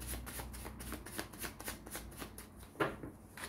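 Tarot cards shuffled by hand in a steady run of soft, rapid riffling flutters and taps, close and fairly quiet, with no talking.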